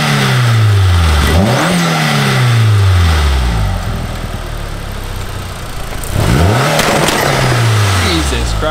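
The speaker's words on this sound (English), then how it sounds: "the turbo seems just as loud as before" Turbocharged car engine with a Mk2 turbo upgrade revs hard twice, each burst sweeping up and back down through a rough mid-range idle, loud and close, with voices talking over it.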